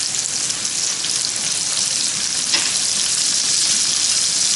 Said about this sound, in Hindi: लगभग 2-3 मिनट मैंने प्याज को भून लिया है।